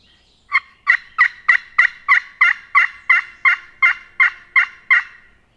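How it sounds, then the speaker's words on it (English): A wild turkey gobbler on public land gobbles a dozen times in a quick, even series, each call sharp and clear against an otherwise quiet background. "we were hearing his gobbles that easily."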